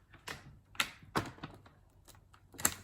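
A knife chops a block of soap into small sections on a cutting surface, giving a handful of sharp, close knocks at uneven intervals with quiet gaps between them.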